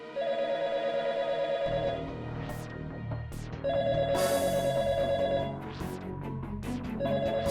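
A telephone rings in repeated bursts with pauses between, loud and close, over a low droning background.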